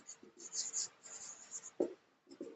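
Pen or marker writing a math expression during a lesson, faint scratchy strokes in short bursts with small taps, close but quiet.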